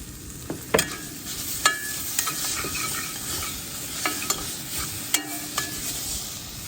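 Garlic fries in a pot for a homemade Ethiopian stew, a steady sizzle under repeated clanking stirs of a metal spoon against the pot, close and fairly loud.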